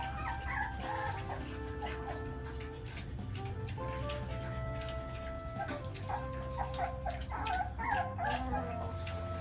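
Belgian Malinois puppies being fed solid food, with faint whimpers and small yips over a constant background hum and light ticking clatter, no one speaking.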